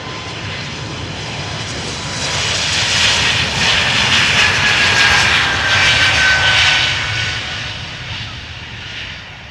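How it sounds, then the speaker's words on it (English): An Air Baltic Airbus A220-300 in Latvian flag livery departs Amsterdam Schiphol with a loud, steady engine roar that swells and then eases slightly, heard alone. "Here we have Air Baltic A220 300 going to Riga in the Latvian flag special livery."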